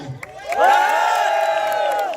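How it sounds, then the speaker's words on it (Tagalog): A crowd of men cheers and whoops loudly, voices overlapping in a sustained roar with some clapping mixed in. "Magpalakpakan may kasamang hiyawan ng lahat ng mga kalalakihan."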